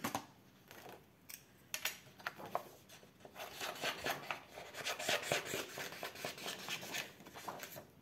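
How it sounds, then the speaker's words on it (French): Small scissors snip through paper while an oval greeting card is made, soft irregular cutting and rustling sounds close by, quiet and without speech. "je vais prendre un petit ciseau"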